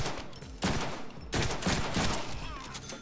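Rapid bursts of gunfire from the Deadpool video game arrive in three loud volleys separated by brief lulls, with no talking over them.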